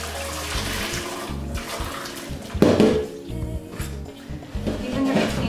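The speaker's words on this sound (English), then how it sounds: "I'm going to pour the boiling water over these items" Boiling water pours and splashes over jars and utensils in a sink or basin, with clinks of metal and glass as items shift around.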